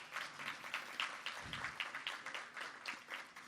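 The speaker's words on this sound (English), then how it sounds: "Can we give them all a round of applause?" A small business-event audience claps for a list of named attendees, sparse and fairly quiet applause with a few distinct claps, fading and returning over a few seconds.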